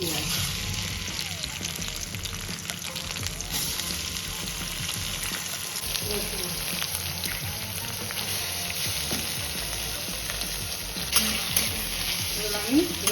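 Mustard oil sizzles and fries softly and steadily in a pan while a person talks over it. A few small splatters and clinks rise near the end.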